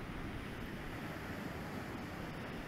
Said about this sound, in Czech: koukejte si na to, jak tady máme vlny